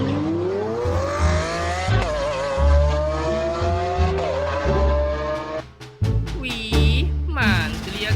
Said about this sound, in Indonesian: Ternyata di sini ada kendaraan mobil balap.